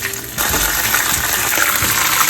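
Water poured into a hot pan of ghee tempered with mustard seeds, chilies, curry leaves and sesame seeds bursts into a loud, rushing gush and sizzle that holds steady after a brief quieter start.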